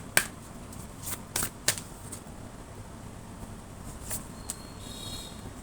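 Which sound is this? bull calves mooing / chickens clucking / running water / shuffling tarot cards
shuffling tarot cards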